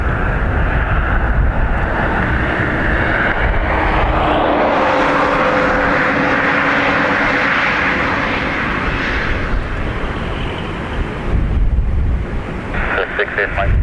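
An Airbus A330 airliner at Dublin Airport roars loudly and continuously, its engine tone swelling and sweeping as it passes, with wind buffeting the microphone throughout.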